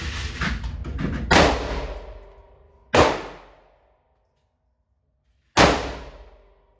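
Three sharp gunshots ring out at an outdoor shooting range, each a loud close crack followed by a long decaying echo, spaced a second or two apart with quiet between them.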